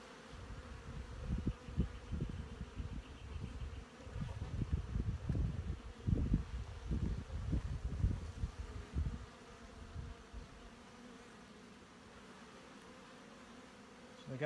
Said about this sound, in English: This hive has lots of bees in it.